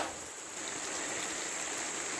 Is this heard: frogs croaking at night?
no